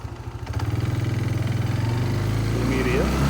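A Kawasaki Bayou 220 ATV engine pulls in first gear with a steady, close, pulsing chug that settles into a firm running note, while a voice talks over it.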